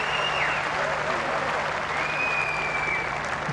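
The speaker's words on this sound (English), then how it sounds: "That deserves a big round of applause, that really does." Crowd applause at a Windsor CSI3* show jumping jump-off: steady, loud, continuous clapping from a large outdoor audience throughout, with a couple of faint whistles.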